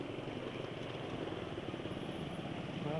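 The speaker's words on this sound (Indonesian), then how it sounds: "Suara mesin masih termasuk kasar kalau RPM rendah." A motorcycle engine, running on Mobil Delvac 1 oil, idles steadily at low revs, with a rough, uneven rumble and no other sounds.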